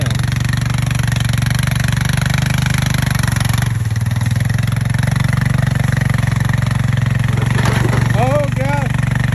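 A Victory motorcycle engine runs loud and close in a steady, throbbing drone that swells slightly, with voices faintly audible over it.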